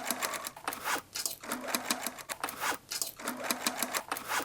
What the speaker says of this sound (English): Shape the bottom corners of the main bag and lining, clip the edges, and machine stitch.